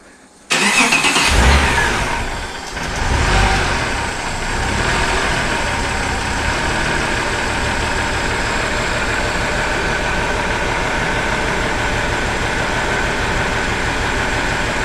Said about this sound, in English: It'll probably fire up and run great now.